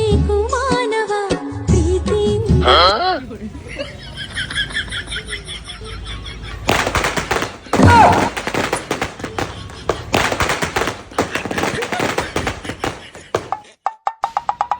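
Diwali firecrackers bursting outdoors in rapid crackling volleys and sharp bangs, loud and close, following a stretch of voices and other sounds at the start.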